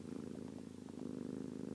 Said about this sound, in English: and you still purring?